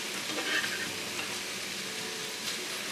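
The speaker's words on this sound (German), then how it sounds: "Jetzt verteile ich das alles schön auf den Boden," Browned ingredients spread across the bottom of a hot pan with a steady, dense sizzle and light scraping, continuous and close, with no talking.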